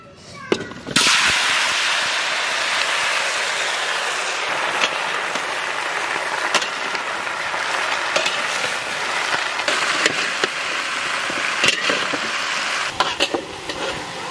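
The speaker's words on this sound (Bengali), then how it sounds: "তেল গরম হয়ে গেছে, ফুলকপিটারে ভাজে নেবো।" Cauliflower frying in hot mustard oil at a large outdoor village cooking spot, a loud continuous sizzle with crackles and scraping stirs, a voice talking now and then above it.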